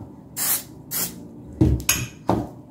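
Cooking spray hisses in short bursts onto a small muffin tray held about an inch away, two softer sprays followed by three sharper, louder ones, close up with no talking.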